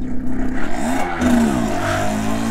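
A 1976 Yamaha YB100 Super 100 motorcycle pulls away in second gear, its small two-stroke engine droning close and loud, pitch wavering and dipping as it labours before rising steadily.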